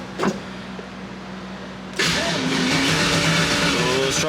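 A car's fuel pumps start up with a steady broadband whir that kicks in abruptly halfway through and holds loud and close, after a quiet stretch with one brief click.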